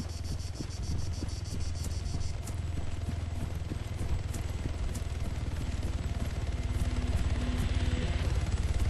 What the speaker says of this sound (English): There's a helicopter coming up.